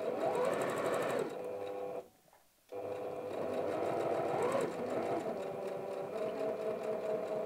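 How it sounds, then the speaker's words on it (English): A sewing machine runs steadily while top stitching a ruffle shirt to trap a rough edge, its rapid whirring hum loud and close, breaking off once for a short pause before resuming. "By doing this top stitching, you're just making sure that the underneath rough edge is being trapped so it won't fray"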